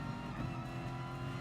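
Corvette race car engine in the racing game GT Sport, a loud, steady drone held throughout, with no voices over it.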